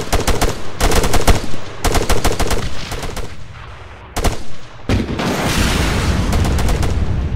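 Heavy gunfire in Arma 3 during a co-op firefight: rapid machine-gun bursts and repeated loud shots in close, dense volleys, broken by brief pauses, with no talking.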